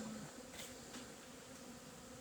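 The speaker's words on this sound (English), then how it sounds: "calm hum out in the field this morning with the bees." Bees humming steadily over a field of sweet corn on a calm morning, a low continuous buzz with a few faint insects passing close, no voices.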